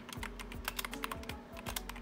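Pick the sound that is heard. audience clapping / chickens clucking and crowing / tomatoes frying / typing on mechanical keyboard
typing on mechanical keyboard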